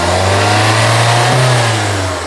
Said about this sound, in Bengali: আপনি দেখেন ইঞ্জিনের সাউন্ডও দেখে দিই যারা গাড়িটা নিবে ওই সাউন্ডটা কত মিষ্টি